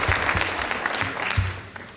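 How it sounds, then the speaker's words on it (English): Brief applause from an audience at a school Shark Tank competition, a short burst of clapping with a few distinct claps standing out before it fades. "Can we have one last round of applause for Kinsey and Kaylee?"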